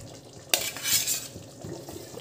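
A spoon stirs potato pieces into palak cooking in a pan, one sharp clink of metal against the pan followed by soft scraping and gentle bubbling, close and fairly quiet.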